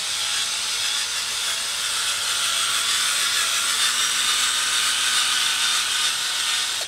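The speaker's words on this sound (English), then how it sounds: "with this drill you can change the speed it rotates at" A power drill whirs steadily at a constant speed while polishing varnish on a guitar body, a smooth continuous buzzing hum with a faint rubbing hiss of compound being rubbed in, no talking.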